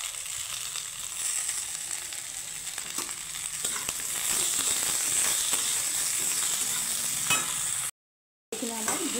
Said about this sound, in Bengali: তো ভেন্ডিটা আমি হালকা করে ভেজে নেব।